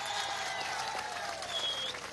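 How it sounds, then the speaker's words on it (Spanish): A crowd at a celebration with the Venezuelan president breaks into steady, continuous applause, a dense wash of clapping heard throughout, with faint voices mixed in. "de aquí un aplauso"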